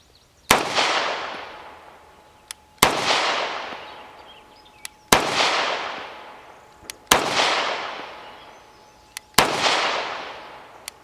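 Five loud, sharp pistol shots from a 1911-style handgun that takes Glock magazines, fired at steady intervals of about two seconds, each followed by a long ringing decay, with faint small clicks between them and no talking.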